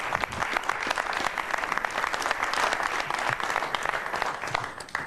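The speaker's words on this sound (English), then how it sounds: "So another round of applause for Ken." A room's audience applauding Ken for his outstanding job at a festive holiday gathering, a full, even wash of clapping that carries on steadily and fades slightly at the very end.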